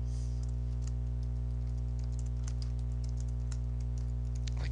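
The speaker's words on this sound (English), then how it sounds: "So you can just start typing at this point," Rapid, irregular clicks of a computer keyboard being typed on, close and fairly quiet over a steady low electrical hum, with no talking.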